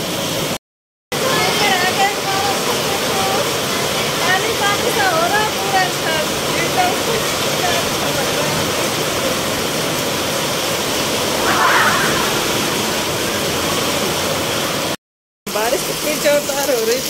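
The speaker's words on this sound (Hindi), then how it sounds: "अब बारिश हो रहा है" Heavy monsoon rain pours steadily on a house rooftop and flooded street, a dense, loud, continuous rushing wash that drops out briefly twice and carries faint voices beneath it.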